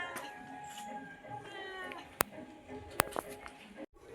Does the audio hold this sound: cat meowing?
yes